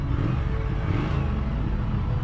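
Triumph Thruxton RS Chrome edition motorcycle engine running, a loud, close, steady low rumble with a rough throb and no pauses across the short stretch.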